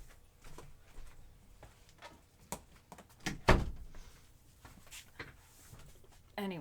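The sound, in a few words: door being shut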